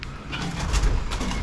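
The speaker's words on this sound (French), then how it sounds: "Ah, les pigeons qui sont au-dessus de ma tête." Pigeons coo overhead inside an old coal-washing plant, soft repeated calls over a steady echoing rumble, close and fairly loud.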